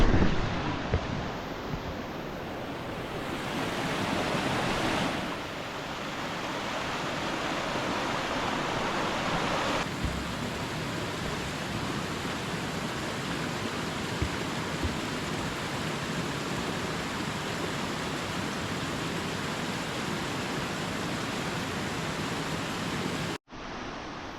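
A clear mountain river rushes steadily at a river crossing near a solo cabin trip, a broad continuous wash of flowing water that sounds close and loud, with no voices.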